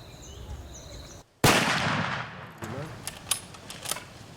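A single sharp, loud lever-action rifle shot cracks out at a buffalo on an African safari, echoing and fading, with quiet talk and faint bird calls around it.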